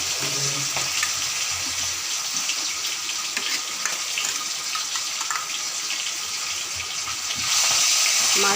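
Pieces of hilsa fish fry in oil in a pan, a steady, dense sizzle close up that swells louder near the end.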